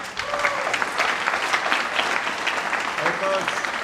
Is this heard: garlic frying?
no